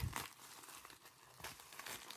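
A plastic bag nested inside another bag crinkles and crumples as it is pulled open during a SMAEL 8059 watch unboxing, a close, steady rustling with brief sharper tearing bursts.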